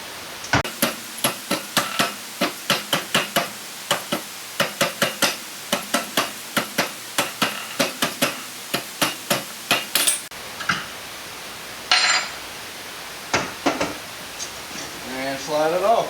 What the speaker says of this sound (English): you can grab a dead blow hammer and just kind of get it off there